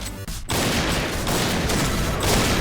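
Gunfire in the online shooter Point Blank, fired with a sniper rifle: a short burst of dense, loud shots that sets in after a brief quiet start and continues steadily, with no talking.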